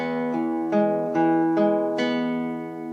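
Acoustic guitar picking a short melodic phrase from Beethoven's Für Elise, notes plucked one after another with ringing overlap, clear and close, no voices.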